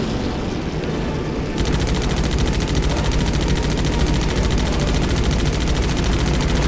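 Rapid machine-gun fire from WWII aircraft in the Pacific combat flight game Damage Inc. Pacific Squadron rattles continuously and loudly, starting a little after a roaring engine drone, with no voices.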